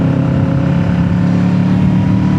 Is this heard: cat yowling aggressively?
no